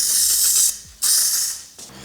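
Spray can hissing paint onto a car's front bumper, apparently a Mercedes E63, in two close bursts with a short gap between and a third starting at the end; steady airy hiss with no talk.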